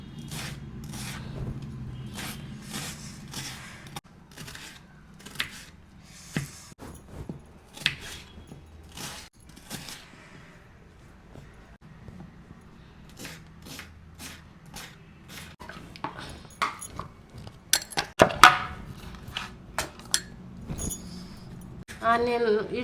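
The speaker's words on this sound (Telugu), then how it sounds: "ఈ ఆనియన్ని మనం కొంచెం సన్నంగా చాప్ చేద్దాం" A knife chops an onion into thin slices on a board, giving a run of sharp, quick taps that come in bursts over the full length, close and fairly loud.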